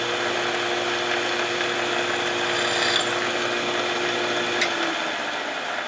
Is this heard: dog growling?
no